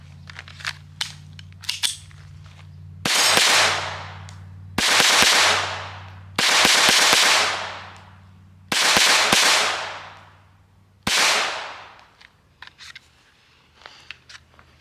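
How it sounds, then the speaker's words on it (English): An FN 502 Tactical .22lr pistol fired outdoors, five loud sharp reports spaced a second or two apart, each with a lingering ring, alongside small handling clicks before and after. "I'm gonna shoot a few more rounds here"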